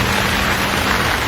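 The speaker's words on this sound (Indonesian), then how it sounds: "Hujan turun." Rain falling as a steady, dense, loud wash of noise with no separate drops or thunder standing out, and no voices.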